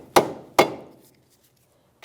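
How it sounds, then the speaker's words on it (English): A rubber mallet taps a front control arm on a 2009-2014 Nissan Maxima during a CV axle replacement: two sharp, close knocks about half a second apart, then a short silence and a third tap starting at the very end. "If not, you can tap that with a rubber mallet."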